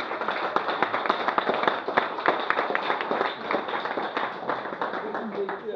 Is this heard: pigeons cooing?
no